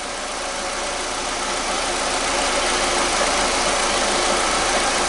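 A car engine runs steadily at idle just after being started on a small battery, its dense, constant rumble loud and close, with no voices.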